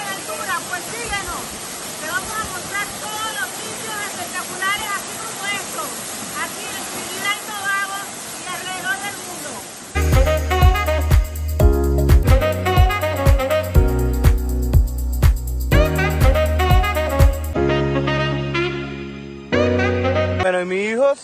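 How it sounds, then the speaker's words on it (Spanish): A waterfall at Double River Waterfall roars as a steady, dense rushing wash for about ten seconds before music takes over for the rest of the clip. "tremenda cascada. Double River Waterfall."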